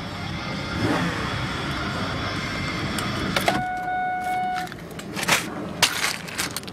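A used Chevy with 150,000 kilometers idles at a dealership lot, a steady close engine hum under clunks and rattles, with a brief tonal whine from the cabin midway.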